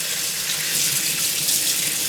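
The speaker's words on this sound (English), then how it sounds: "I'm just using super cold tap water." Super cold tap water runs steadily from a faucet over cooked boba pearls in a sink, a loud, close, continuous hissing splash with no breaks.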